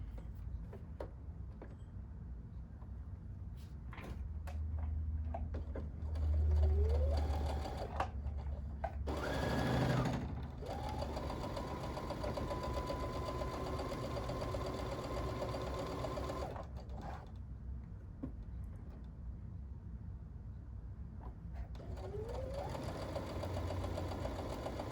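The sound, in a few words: sewing machine stitching along a marked line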